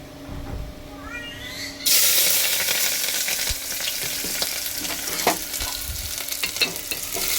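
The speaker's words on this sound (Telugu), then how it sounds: "కొద్దిగా ఉల్లిపాయలు ఎర్రగా వచ్చేంత వరకు ఇలా మనం వేపుకొని" Onions drop into hot oil and set off a sudden loud burst of sizzling that stays steady and close, with some stirring clatter on top. A cat meows a few times just before the frying starts.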